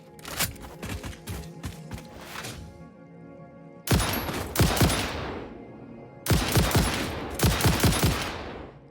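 Rapid bursts of gunfire in the game Satisfactory, aimed at creatures: a dense volley of shots, then a pause, then two louder bursts of fast shots in quick succession, close and loud.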